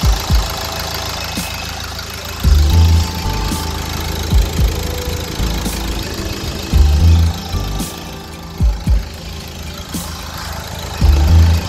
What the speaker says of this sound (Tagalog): Stop the engine and then start again.